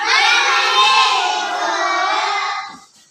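A classroom of schoolchildren performs a clapping chant in unison, the many young voices loud and close, running for about three seconds before trailing off.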